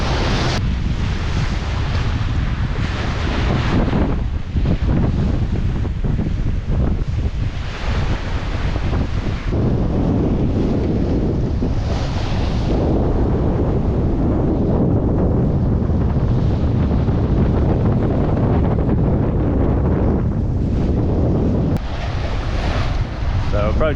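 Wind buffets a sailing yacht on lumpy seas off the south-west corner of Guernsey, a steady loud rush of wind and microphone noise mixed with sloshing water and hull motion for the whole stretch.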